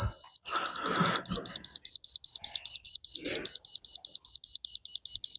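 A construction laser level used while setting up slab formwork beeps steadily once levelled at zero, a fast even train of about twenty short high-pitched pulses, loud and close, with brief handling noise and a few words near the start.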